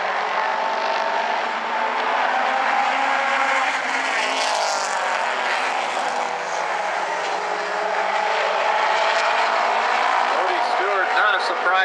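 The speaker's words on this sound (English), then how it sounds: "Surprised to see Cody Stewart leading a race here at South Sound Speedway" Late model race cars run an A-main at South Sound Speedway, their engines forming a continuous droning roar across the whole stretch while an announcer talks over the sound.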